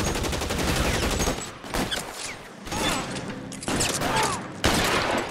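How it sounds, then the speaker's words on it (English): Machine gun fire during a shootout in the video game L.A. Noire, as a loud, continuous rattling burst mixed with other dense game noise. "Oh my god, he got a machine gun?"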